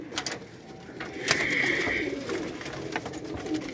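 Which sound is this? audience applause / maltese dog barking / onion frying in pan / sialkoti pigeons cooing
sialkoti pigeons cooing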